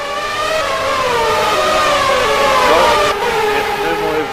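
Formula-style racing cars overtake in a sim racing game. Layered engine whines rise and fall loudly and continuously as several cars pass, with pitches sliding across one another.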